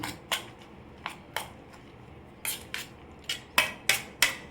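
Egg paniyaram batter is mixed with salt in a bowl, giving crisp spoon taps and scrapes at irregular intervals, close and clear against a quiet background.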